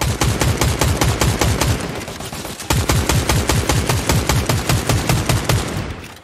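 Rapid bursts of automatic gunfire in a Fortnite match, with dense, evenly spaced shots in two long volleys separated by a brief pause, loud and close.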